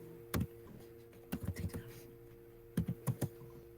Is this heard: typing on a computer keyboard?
yes